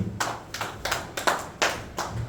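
A church congregation claps in praise during a service, producing about six or seven loud, evenly spaced collective claps in a steady rhythm, close and resonant in the hall, with no voices over them.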